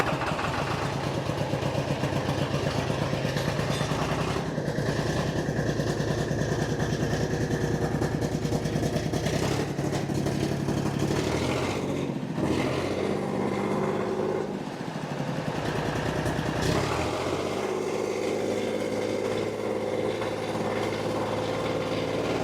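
A John Deere 830 utility tractor's diesel engine runs steadily with fresh fuel injectors, a continuous close, loud throbbing idle with a brief dip in the middle before it settles back to an even run.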